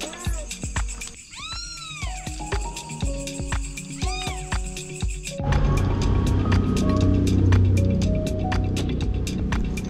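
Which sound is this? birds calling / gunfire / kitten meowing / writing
kitten meowing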